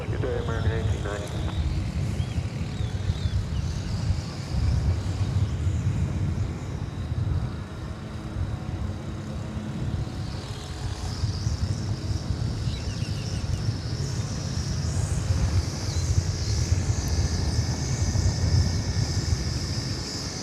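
An American Airlines Boeing 737-800 airliner turning at DFW Airport, bound for Los Angeles, gives a steady distant engine roar and rumble that holds throughout, with people talking over it.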